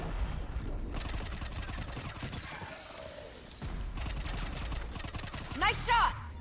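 Bursts of gunfire during Mass Effect 3 combat, rapid dense volleys repeating across the clip with a short lull midway and a sharper crack near the end, with faint voices in the background.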